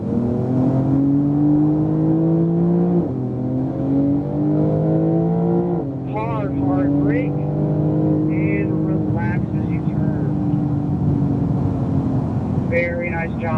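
A 2018 Porsche 911 Turbo S accelerates along a race track straight, its engine holding a steady droning whine that steps up in pitch through gear changes, while a driving coach talks over it.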